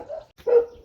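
A dog lets out two short barks or yips, the second louder and closer, on a jungle trek through a village in Nepal.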